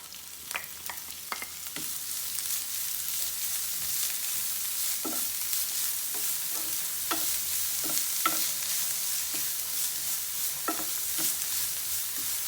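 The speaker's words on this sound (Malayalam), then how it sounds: "ഇതിനകത്തേക്ക് നമുക്ക് അരിഞ്ഞ് വെച്ചിരിക്കണം സവാള ചേർത്ത് കൊടുക്കാം" Chopped onions sauté in a pan for beetroot thoran, a steady bright sizzle with occasional spatula clicks and taps scattered throughout, close and moderately quiet.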